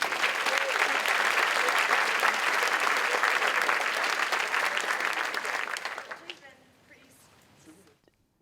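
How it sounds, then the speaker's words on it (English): An audience at a game developers' workshop claps loudly in a dense, sustained burst that fades out over the last couple of seconds, leaving near silence. "let's give them a huge round of applause."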